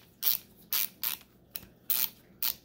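Repaired Stanley ratchet clicking, six sharp, close bursts of rapid pawl clicks separated by short pauses, alone without speech.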